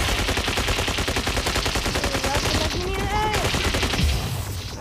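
Rapid bursts of gunfire and missile blasts from the mech combat video game Mech Arena rattle on nonstop, dense and loud, with a brief voice underneath.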